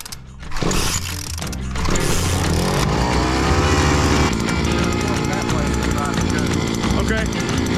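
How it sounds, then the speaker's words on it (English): A gas-powered Harbor Freight auger, a $250 hole digger, boring a fence post hole, with a loud steady engine drone and grinding that starts sharply and then runs continuously; a voice speaks over it. "This was my first time using an auger. It's a hole digger that I bought from Harbor Freight for 250 bucks."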